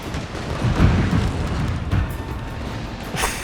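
A cannon in the strategy game Shogun 2 fires, and its shell explodes in a deep, rumbling boom that rolls on over a dense, noisy battlefield background, with a sharper crack near the end.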